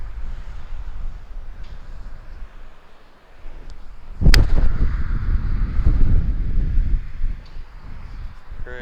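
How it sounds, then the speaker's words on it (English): Strong gusting wind at a golf practice range buffets the microphone in a dull, rushing roar, easing briefly and then surging hard again with a sharp crack partway through, followed by sustained heavy gusts. "Huge wind off my back in that direction."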